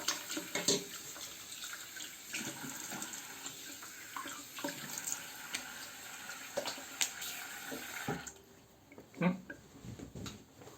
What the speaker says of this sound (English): Rinsing my face